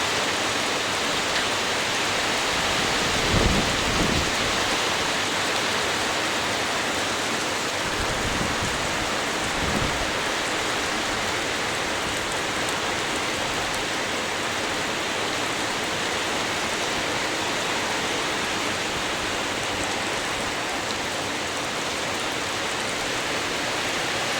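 Heavy rain pouring down steadily near rubber trees, a dense, even hiss with a few dull low thumps early on. No voices.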